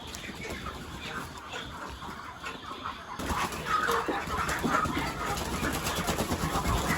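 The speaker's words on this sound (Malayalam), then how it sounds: "കോഴികളെ പകർത്താൻ പോകുന്നു." Poultry farm chickens cluck and squawk continuously while being moved into boxes, growing louder and busier partway through, with handling noise and faint voices mixed in.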